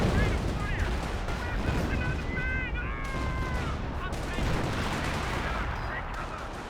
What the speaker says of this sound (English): 6 flares, so there's got to be one that's going to be an actual barrage.